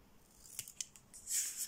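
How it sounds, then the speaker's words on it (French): Scissors cutting paper on an angle for an envelope mini album: a few crisp close snips followed by a longer sliding cut, with no talk. "Donc ceux-ci, on va les couper en biais pour éviter de trop... toujours les couper en biais."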